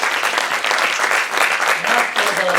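An audience applauds steadily, a dense, close wash of hand claps that swells and dips slightly, with a voice faintly audible beneath it toward the end.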